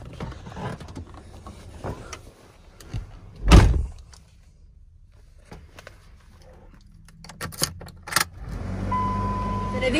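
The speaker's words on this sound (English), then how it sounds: "All right, there's lock. Key works the door." Key turning in the door lock of a 2001 Dodge Ram 3500 dually pickup, a brief metallic jangle and clunk standing out against quiet background, followed by scattered clicks and a low vehicle hum.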